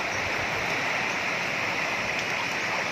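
A clear, bright river flows steadily at an outdoor riverside spot, its broadband rushing and babbling constant and fairly close, with no voices over it.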